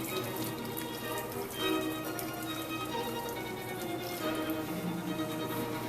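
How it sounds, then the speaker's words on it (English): Clam cooking liquid pours through a paper towel into a bowl, a continuous trickling, splashing stream of water heard close and steady without talk. "So you want to pour this through a paper towel"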